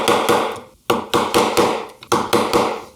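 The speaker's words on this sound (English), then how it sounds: "Then pare away the waste in between those edges. Taking away a little chisel shaving." Chisel paring waste wood from a dovetail socket, a series of sharp, close wooden taps and knocks in an uneven rhythm, each strike decaying quickly before the next.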